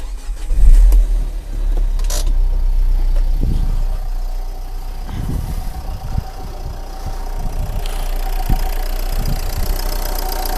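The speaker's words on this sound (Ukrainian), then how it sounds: "Двигун працює рівненько, не трясе, не тіліпає" A Renault Kangoo Maxi engine idles steadily with a low, even rumble, punctuated by a few soft clunks and rattles nearby.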